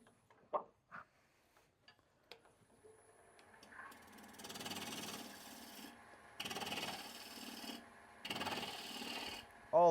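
A maple bowl blank being rough turned on a wood lathe, the gouge cutting in repeated loud rasping bursts as shavings fly, after a quieter stretch of clicks and handling.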